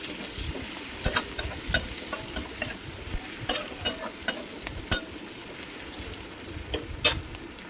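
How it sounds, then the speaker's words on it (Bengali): Onions fry in oil in a pan with a constant soft sizzle, close by. A spoon stirs and scrapes the pan in a regular rhythm of clicks over the sizzle. "এবার পেঁয়াজগুলো আমি এখানে সুন্দর করে লাল লাল করে ভেজে"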